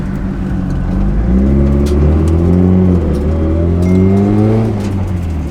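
A Mitsubishi Evo pulls away and accelerates, its engine note climbing steadily through the gears, loud and close with a continuous throaty drone and no talking.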